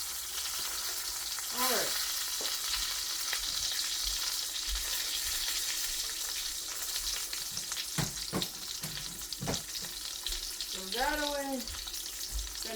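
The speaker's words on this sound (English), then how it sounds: "We have one hash brown in here. We're going to make that up real quick." A single hash brown frying in a pan after bacon, giving a steady loud sizzle throughout with occasional scraping and clinks of a utensil, and one brief spoken word.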